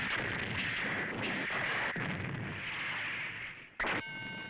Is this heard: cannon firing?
yes